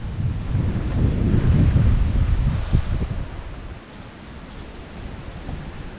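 Strong wind roars at a winter campsite in Newfoundland and Labrador at about minus 15 degrees, loud gusty rumbling against the microphone that eases to a softer steady whoosh partway through, with no talking.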